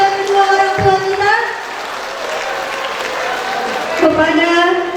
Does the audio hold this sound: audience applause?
yes